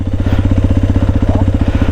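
A Hero Xpulse 210 motorcycle engine runs close up at a steady idle, giving a loud, even, rapid thumping beat with no talk over it.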